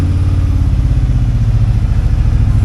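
A used Harley-Davidson Street Glide motorcycle engine runs with a loud, steady low rumble and a fast, even throb close by, with no voices over it.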